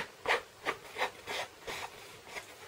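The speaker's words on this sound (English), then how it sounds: "open up your stamp pad. And you just want to scrape." Card edges scraped across an ink stamp pad, about seven short, soft rasping strokes in a steady rhythm, close and quiet.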